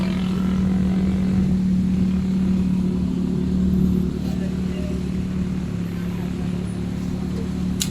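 Traffic heard from inside a delivery vehicle stuck in slow midday traffic, a steady low engine drone and rumble continuing for several seconds, close and fairly loud, with someone talking over it.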